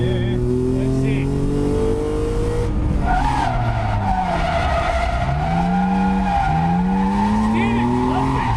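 BMW E36 Compact with a swapped M52 engine revs hard near the limiter while drifting, pitch rising and falling with throttle blips amid tire squeal, loud and close throughout.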